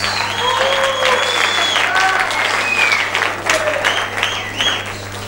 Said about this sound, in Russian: Джек, ваши аплодисменты, Джек.